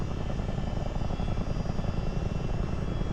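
Simulated CH-47 Chinook tandem-rotor helicopter in Microsoft Flight Simulator, a steady loud turbine roar blended with dense rotor thrum, continuous and even throughout with no talking.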